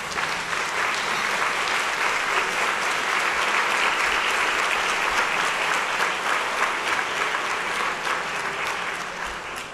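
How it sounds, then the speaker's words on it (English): Audience applause fills a ceremony hall at a community awards event, a dense steady clapping that holds at full strength throughout with no voices over it. "let's give these good people a round of applause"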